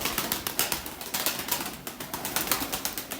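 Arabian pigeons taking off, a rapid series of wing claps and flaps, close and fairly loud, with no voices over them.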